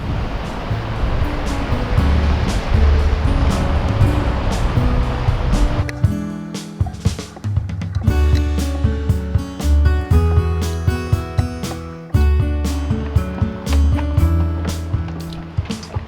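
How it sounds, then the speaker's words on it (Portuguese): Steady wash of engine and water noise, then a rougher, louder stretch with rhythmic thumping of a dive operator's motorboat hull slapping through sea waves off Serrambi near Recife, continuous and close. "Embarcamos numa das lanchas da operadora de mergulho"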